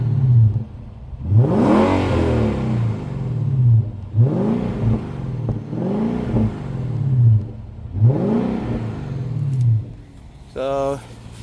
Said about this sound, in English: We'll do a little rev